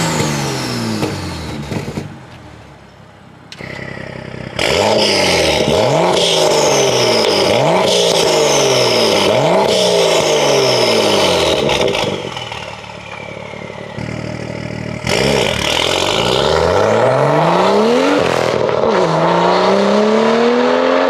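A car with a full titanium exhaust, ARM Motorsports catless downpipe and MHD Stage 2 tune revs hard several times in a row, each sharp climb and fall loud and close, with idle gaps in between.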